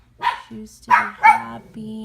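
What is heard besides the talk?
dog barking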